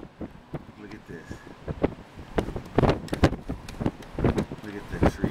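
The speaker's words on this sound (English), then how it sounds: "It's just the way the wind is blowing." Blizzard wind in Chicago gusts across open farmland near a lake, buffeting the microphone with rough, irregular bursts that grow stronger toward the end.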